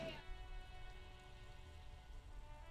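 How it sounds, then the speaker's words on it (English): Rain and hail pelting a window during a storm, a soft steady patter and hiss running throughout at low volume. "There's like hail hitting our window and everything."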